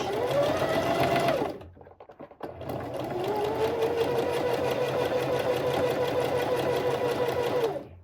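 A sewing machine understitches around the neckline of a top, running steadily and close by, pausing briefly after a second of stitching and then humming on without a break until the end.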